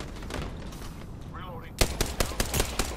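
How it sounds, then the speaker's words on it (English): Gunfire in Apex Legends breaks out as a rapid burst of sharp, loud shots after a quieter stretch of game sounds and a short voice line. "Taking fire, bros."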